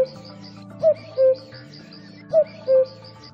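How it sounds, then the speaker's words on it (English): A bird's soft two-note coo, as of a cuckoo, sounds twice in a row, each pair a short rising call followed by a longer held tone, clear and fairly close over a quiet background hum. "and cooing of a cuckoo bird."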